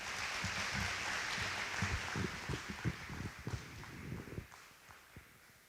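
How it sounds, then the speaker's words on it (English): A college convocation audience gives a round of applause: a patter of claps that thins into scattered, uneven hand claps before dying out into quiet room tone. "Let's give her a round of applause again"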